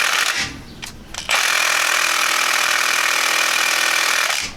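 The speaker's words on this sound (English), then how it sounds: "we are going to take our ½ inch socket, and I'm going to do it on an impact" Impact wrench driving a half-inch socket on a Jeep XJ front end during a differential and front-end rebuild, a short rattle, a pause, then a loud steady hammering buzz lasting about three seconds, close up, no talk.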